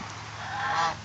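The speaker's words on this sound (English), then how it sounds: "Geese are pretty fun." Geese honking while splashing under a garden sprinkler on a hot day, one loud, slightly drawn-out honk that swells and fades over about a second, close by.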